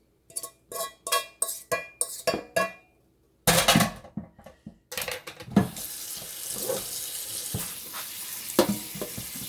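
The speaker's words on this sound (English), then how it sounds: "Put some cold water on it." Cold tap water runs onto freshly cooked macaroni in a sink, with a few short clattering bursts first, then a steady loud splashing stream that continues to the end.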